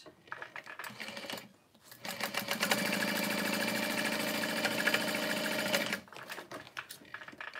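Sewing machine stitching handbag snap pieces, a fast steady mechanical whirr running for about three seconds, framed by quieter handling sounds before and after.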